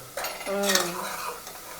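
Ginger-garlic paste and Malvani masala tempering in hot oil in a pan, with a soft sizzle under the clink and scrape of a spoon stirring against the metal, steady and close for a couple of seconds.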